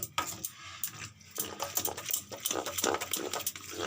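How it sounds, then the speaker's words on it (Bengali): Semolina idli batter being mixed by hand in a bowl gives soft, wet squelching and slapping, with irregular close strokes and occasional faint clinks. "এটা ভালো করে মেখে নিচ্ছি দেখো বন্ধুরা কেমন করে মাখছি আমি"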